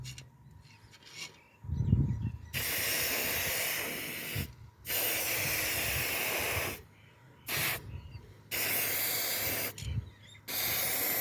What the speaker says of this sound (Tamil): குலுக்குனதுக்கப்புறம் ஓப்பன் பண்ணி அப்படியே ஸ்ப்ரே அடிக்க வேண்டியது தான்.